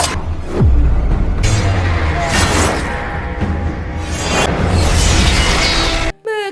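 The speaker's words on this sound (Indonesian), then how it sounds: "Gas beracun yang dia bawa kebakar terus meledak." A loud, sustained explosion of burning toxic gas in the monster film Kong: Skull Island, with a sharp crack at the start and rolling, crackling blasts and debris that rumble on before cutting off abruptly.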